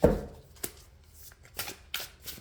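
Tarot cards being shuffled by hand, a burst of riffling at the start followed by several short, crisp bursts of cards slapping and sliding at close range, with no talking.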